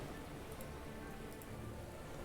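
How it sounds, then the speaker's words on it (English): Steady rainstorm in the Brighter Shores video game, a soft continuous hiss of falling rain with no voices, faint and even throughout. "Still raining. Storm is still going here."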